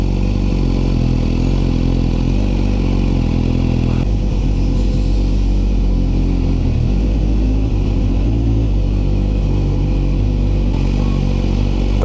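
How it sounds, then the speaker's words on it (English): Constant engine rumble from a motorcycle riding through busy downtown city traffic on the Fourth of July, with a low droning idle and occasional revving and clatter, loud and close throughout with no talk. "Man, the traffic is rough."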